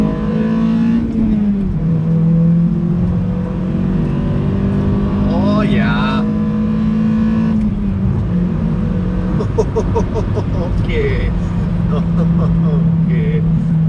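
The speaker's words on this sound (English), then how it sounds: "All right, little launch. See how it feels. First gear." A Skyactiv Mazda running an upgraded tune launches and pulls hard through first gear, its engine drone rising steadily and staying close and loud. Excited voices cheer over it.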